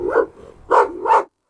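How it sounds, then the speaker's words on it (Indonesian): A Rottweiler barks loudly up close, three sharp barks with a short gap after the first and two quick ones following, then sudden quiet. "Wahai Rocky, kamu teriaknya kenceng banget, mulutmu cerewet banget nak"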